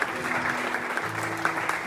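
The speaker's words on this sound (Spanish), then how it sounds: "¿Quién da un aplauso?" A church congregation at a Christian sermon gives a short, fairly faint round of applause, soft scattered claps over a low steady tonal hum.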